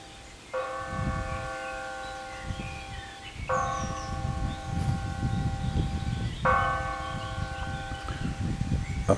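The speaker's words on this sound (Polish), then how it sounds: "Akurat wydzwania dzwon godzinę południową." A church bell tolling noon in a Polish village, three resonant ringing strokes evenly spaced about three seconds apart, each humming on as it fades, over outdoor rustling and a soft background rumble.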